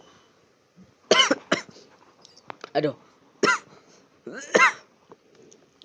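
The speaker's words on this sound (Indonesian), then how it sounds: "aku lagi batuk" Several sharp coughs burst out in short clusters, close and loud, with a brief spoken exclamation between them in a quiet room.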